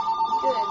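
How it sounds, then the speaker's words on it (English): A telephone rings indoors with a steady electronic tone, fairly loud and close, as a brief spoken word overlaps it. "Sorry. That's the phone."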